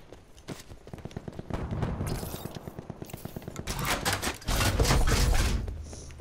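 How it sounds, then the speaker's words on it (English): Gunfire in a video game match on an Alcatraz map, rapid bursts of loud shots in quick rhythmic succession, followed by a heavier blast and a sustained roar of firing. "got somebody going off the shotgun"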